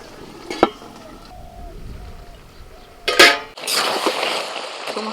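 Vegetables sizzle and stir-fry in a wok as water is added, with a sharp clink and a burst of hissing steam toward the end. The cooking noise runs under background sounds.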